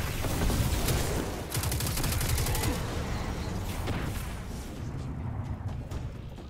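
A grenade goes off among a group of enemies in the shooter game Destiny 2, with loud bursts and rapid crackling gunfire that thin into rumbling echoes.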